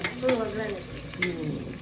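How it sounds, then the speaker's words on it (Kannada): Hot oil sizzles and spits close by, a bright hissing with a couple of sharper crackles, while people talk faintly in the background. "ಇವಾಗ ಏನು ಒಗ್ಗರಣೆ ಕೊಡೋದಾ?"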